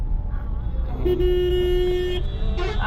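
A vehicle horn blares in a traffic jam on the road near Dankuni, one sustained toot of about a second over steady engine and road rumble, with a shorter honk following.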